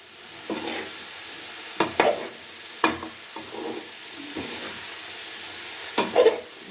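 Cauliflower and pea curry sizzles softly in a pan while a spoon stirs it, with several scraping clanks against the pan in an uneven rhythm over a steady frying hiss, close by and with no talking.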